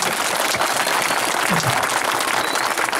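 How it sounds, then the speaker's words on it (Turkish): A crowd applauds loudly and continuously, with a thick wash of clapping filling the whole stretch. "Kadir Başkanıma bir alkış istiyorum arkadaşlar."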